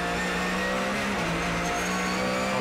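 Onboard a Porsche GT3 Cup race car at full throttle on the Denny Hulme straight at Manfeild Raceway, the engine a loud, steady high-revving roar with a brief shift partway through and no voices.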